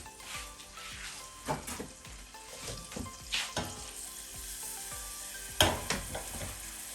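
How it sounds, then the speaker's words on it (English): Finely chopped garlic fries in a pan over low heat, a steady soft sizzle and crackle running throughout with occasional louder pops and stirring scrapes, no talking. "We are going to fry the garlic until you can smell the amazing garlic fragrance comes out of the pan."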